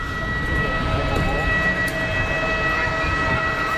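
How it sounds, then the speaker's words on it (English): Steady whine from a jet aircraft engine with worn bearings at Geneva Airport, holding constant tonal lines over a broad roaring rumble throughout, loud and continuous. "Proper whine on it, like bearings are shot."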